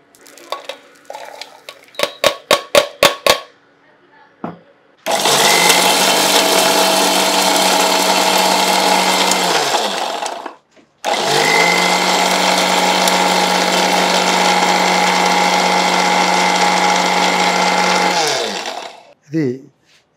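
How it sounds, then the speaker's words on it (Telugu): Roasted walnuts and almonds crushed in a mixer grinder jar: a quick series of rattling pulses, then two long, loud runs of the motor's high whine, broken by a short pause. "మిక్సీ జార్ వేసుకొని"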